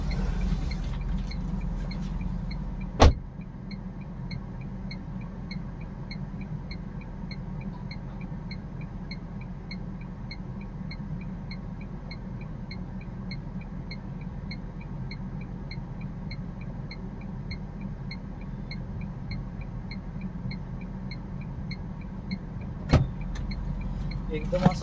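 A car creeps slowly into a crowded home parking area, a low steady engine rumble inside the cabin with a faint repeating chime, and a couple of sharp clicks or thumps near the start and end.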